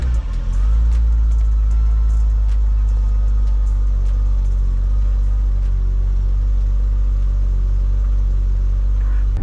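A BMW E30 325iX starts up, with a loud, steady, low engine rumble settling into an idle that goes on throughout, heard close and with no voice.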